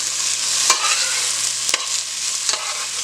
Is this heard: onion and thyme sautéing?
yes